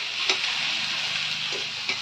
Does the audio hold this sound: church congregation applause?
no